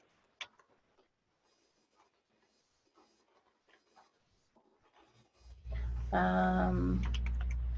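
A computer keyboard clicks in faint, scattered keystrokes in a quiet room, followed by a louder stretch of a voice speaking over a low background hum.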